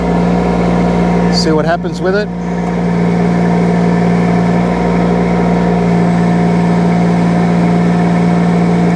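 A mini excavator engine runs steadily at higher revs, a loud continuous drone with a steady low hum, while a person talks briefly near the start.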